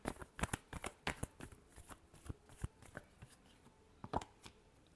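Tarot cards being shuffled by hand make a quiet, close run of crisp, irregular flicks and taps in quick succession.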